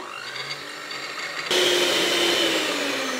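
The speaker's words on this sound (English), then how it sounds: "place them in a bowl and mix them using an electric hand whisk" An electric hand whisk beats eggs in a bowl, a steady high motor whine that jumps to a louder, higher speed partway through and keeps running evenly.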